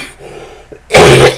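A single loud, harsh cough bursts out after a quiet stretch, close to the listener and lasting about half a second.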